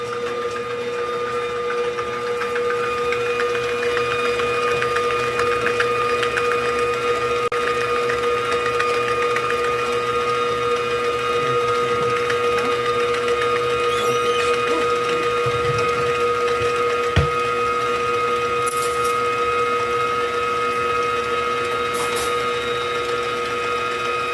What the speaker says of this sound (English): I know the mixer is making a little funny noise